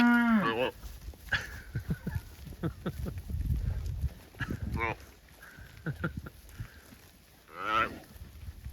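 Cattle moo on a farm pasture during a morning herd move in drought, with several drawn-out calls near and farther off, scattered hoof and movement noises, and a person talking faintly in between.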